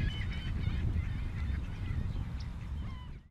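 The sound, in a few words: gulls calling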